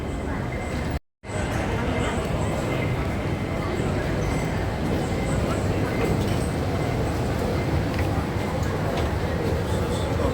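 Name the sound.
airport train in Hong Kong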